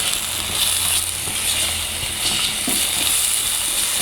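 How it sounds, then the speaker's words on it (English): Vegetables sizzling in a hot pan, a steady bright frying hiss with faint crackles and occasional soft pops, close and continuous. "Saute it until we can see through them, translucent."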